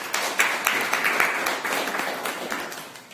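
An audience claps after a presentation, with dense, steady applause from many hands filling the room for a few seconds.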